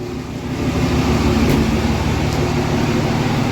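A diesel truck engine fires up on a cold 46-degree morning without a grid heater, settling quickly into a steady, loud low rumble and idle that carries on evenly without any voice over it.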